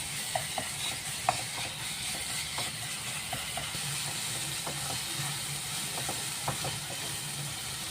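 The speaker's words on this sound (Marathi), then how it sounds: "आता हे आपण कांद्यासोबत परतून घेऊया" Chili paste and ginger-garlic paste sautéed with onions in a pan, a steady close hiss of frying with occasional light clicks of a stirring spoon, no talk.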